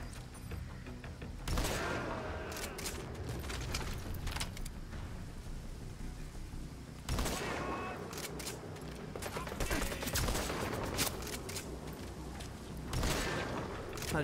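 Gunfire in Metal Gear Solid V comes as two bursts of loud, sharp shots separated by quieter rumbling and mechanical background noise, with a voice talking faintly at times.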